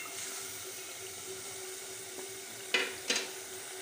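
Boiled chickpeas and potatoes fry in a pan, a steady soft sizzle with two brief louder scrapes or stirs close together toward the end.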